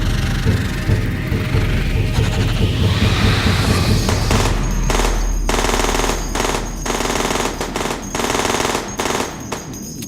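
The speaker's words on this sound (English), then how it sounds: "The smoke from Ethel's unloaded machine gun settled" Machine gun sound effect in a fantasy audio drama, a loud close rapid burst of automatic fire in several stuttering volleys that ends in short bursts and decaying echoes.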